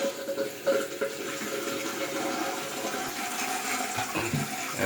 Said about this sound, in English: And it's time to turn the water on.